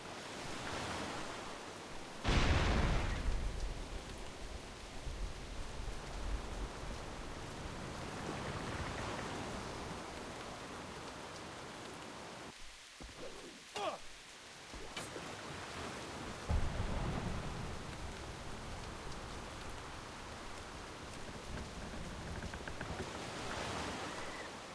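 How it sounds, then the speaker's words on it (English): Steady rain hisses throughout in the World of Warcraft game world, a broad wash of noise with a few louder bursts and brief near-silent gaps partway through. "We weren't expecting rain."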